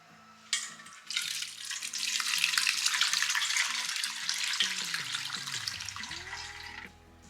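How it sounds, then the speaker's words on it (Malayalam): Homemade pineapple wine pours steadily through a sieve, a broad continuous watery rush that starts abruptly, runs for several seconds, then cuts off, with faint background tones beneath. "അപ്പോൾ നമുക്ക് എന്തായാലും ഇതൊന്ന് അരിച്ചെടുക്കാം."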